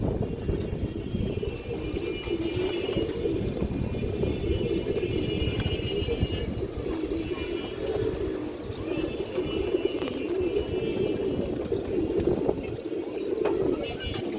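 Domestic pigeons of fancy breeds cooing and rustling close by throughout, a steady low murmur of birds with occasional wing and foot noises, no speech over it.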